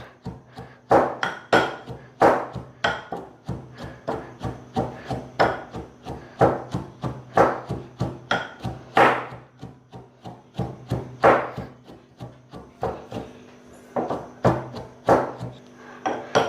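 Dough for thattai vadai mashed by hand the traditional way, a steady series of dull slapping and pressing thumps, close and loud, roughly two or three per second with a faint background hum and no talk.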